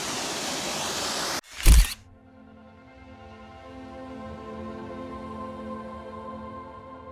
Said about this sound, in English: this is the main waterfall